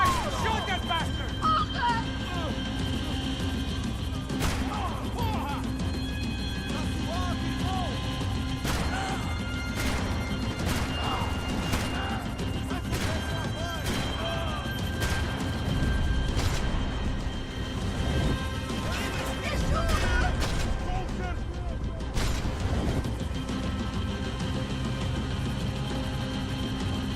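Gunfire from a PlayStation 3 session of Max Payne 3, with repeated sharp shots and crashing impacts over dense game noise for the whole stretch, and speech mixed in throughout.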